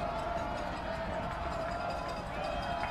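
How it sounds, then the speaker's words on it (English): A football crowd stomps on the stadium bleachers at the Rock Bowl during a Loras vs UD game, making a dense, continuous rumble of thuds under crowd noise with a commentator's voice heard over it. "You can hear the stompings on the bleachers of the Rock Bowl."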